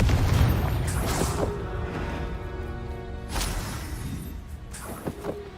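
A Confringo spell blast in the Hogwarts Legacy video game: a deep, booming explosion with a rumbling tail, followed by a second impact burst a few seconds later, with no talking.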